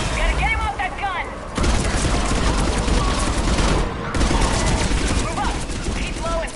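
Sustained gunfire from a mounted gun in Mass Effect 3, dense bursts of shots running through the whole stretch with a short lull, mixed with game voices and battle noise.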